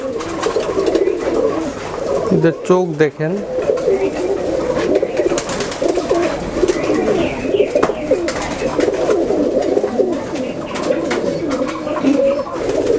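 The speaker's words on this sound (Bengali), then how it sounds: "এটা আপনার হচ্ছে নীলদম্বা নীলদম্বা" Nildumba pigeons, a flying breed, coo constantly at close range in a soft, layered chorus while people talk over them.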